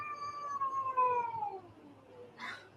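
A cat gives one long, drawn-out meow that slides downward in pitch, fairly close and alone in a quiet room, followed by a brief rustling noise.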